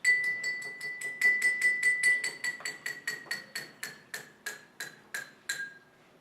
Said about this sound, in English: The note gets lower as the glass gets more full.